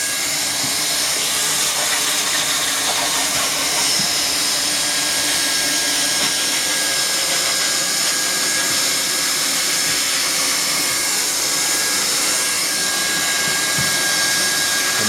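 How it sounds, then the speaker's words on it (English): A hot-air welding tool blows a loud, steady hiss nonstop while heat welding a Duradek vinyl deck membrane flap into a corner, with no speech over it. "He's going to actually heat weld this flap right up against the back wall to the other material"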